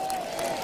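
A crowd at a bowls match between England and Scotland breaks into a brief, steady burst of applause with the sound of a commentator's voice faintly beneath it.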